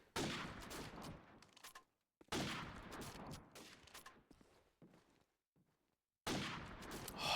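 Call of Duty 4 gunfire plays in bursts of rapid, loud automatic shots broken by short silent gaps, the volleys returning in three main stretches.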